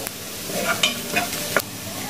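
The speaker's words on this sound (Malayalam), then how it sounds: "ആവശ്യത്തിനുള്ള ഉപ്പും കൂടെ ചേർത്ത് നന്നായിട്ടൊന്ന് വഴറ്റിയെടുക്കുക" Onions sautéing with salt and a little turmeric in a pan for chilli bajji filling, a brief close sizzle with a few quick spatula scrapes and no speech.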